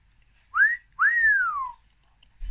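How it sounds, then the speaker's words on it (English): A person gives a two-part celebration whistle, a short rising note then a longer one that swoops up and glides down, clear and close in a quiet room with no talking. "So, this calls for a celebration whistle."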